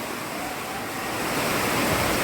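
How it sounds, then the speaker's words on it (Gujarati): Heavy rain pours down in a dense, steady roar of broadband hiss, close and loud, growing slightly stronger toward the end, with no voices. "આ ધોધમાર વરસાદ પડે છે જોઈ જાઓ"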